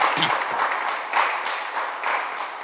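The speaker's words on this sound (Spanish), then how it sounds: "Podemos darle palmas a ese Rey bendito." Church congregation clapping during a Sunday service, a brief burst of steady applause from many people, even and fairly close with no talk over it.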